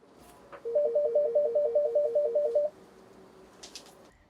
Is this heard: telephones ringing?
yes